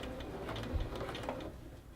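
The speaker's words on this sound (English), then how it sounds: "So I'll put my needle down and we'll back stitch." A sewing machine back stitches at the start of a seam for a continuous bound placket, sewing beside the seam allowance. Its close, steady mechanical whir and light ticking run for about two seconds with no talking.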